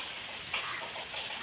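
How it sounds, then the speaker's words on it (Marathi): Heavy rain falls steadily outside a home, a soft constant hiss with faint scattered drops and no voices. "खूप पाऊस पडतो, अजून थोडाफार लागतोय"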